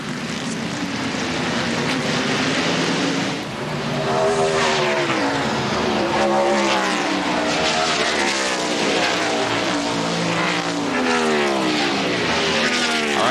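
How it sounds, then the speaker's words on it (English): NASCAR stock cars racing for position at Sears Point Raceway make a dense, continuous engine roar, with overlapping cars rising and fading as they pass, loud throughout. "All those cars you see racing for position."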